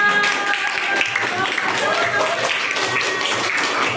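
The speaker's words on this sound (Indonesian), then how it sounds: "Kasih tepuk tangan untuk Kansa." Elementary schoolchildren in a classroom clap for a classmate, a loose burst of small hands clapping near and slightly uneven, with children's voices chattering underneath.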